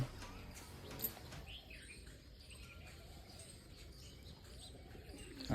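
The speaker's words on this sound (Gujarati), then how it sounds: "ત્રણ ચાર કબૂતર ઉપર છે" Faint pigeons coo in the distance over a low background hum.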